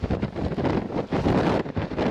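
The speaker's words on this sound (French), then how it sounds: "Ce vent." Strong wind buffets the microphone at the summit of Alkurruntz in the Basque Country, a loud, continuous roar in uneven gusts with no voices.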